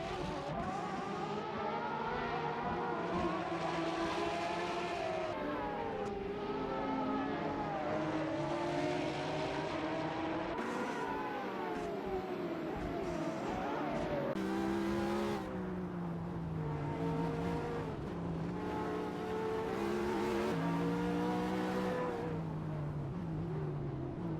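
Several supercar engines roar in a racing video game, their pitches rising and falling as they rev, shift and pass, forming a dense, continuous layered drone that stays loud throughout.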